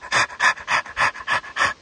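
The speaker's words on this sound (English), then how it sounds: "Panting." A dog pants beside a creek bank while someone fishes, giving about seven quick, even breaths in a steady rhythm, close and fairly loud with no talking.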